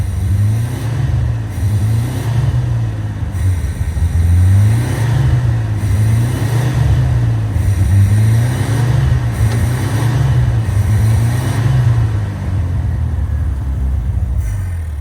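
A homebuilt jeep's Volkswagen Beetle engine runs roughly with no idle fuel, its loud, close rumble surging and sagging in a regular cycle about every two seconds, hunting unevenly without settling, with no speech.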